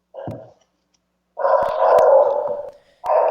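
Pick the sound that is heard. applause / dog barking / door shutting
dog barking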